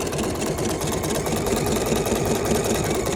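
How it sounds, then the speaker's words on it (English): A sewing machine stitching appliqué runs steadily at close range, a fast, even mechanical whir and needle clatter throughout, no voices. "I'm gonna let this stitch out."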